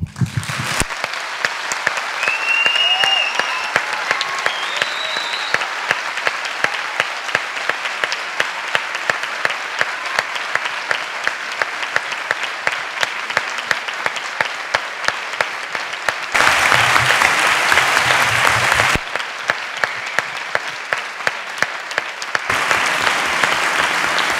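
A university debate audience bursts into long, loud applause, dense rhythmic clapping sustained for many seconds with a brief surge partway through, no speech over it.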